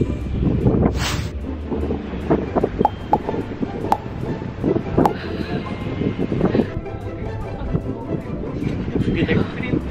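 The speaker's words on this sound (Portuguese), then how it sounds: "Nós ia gravar aqui, só que foi uma tentativa frustrada porque tem muito vento." Strong outdoor wind buffets the microphone in a loud, continuous low rumble with gusting bursts, while people talk over it throughout.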